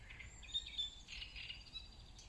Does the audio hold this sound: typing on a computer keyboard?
no